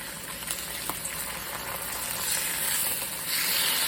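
Pizza pieces frying in a hot pan give a steady close sizzle and hiss, with a few small pops and crackles, and the sizzle swells louder near the end.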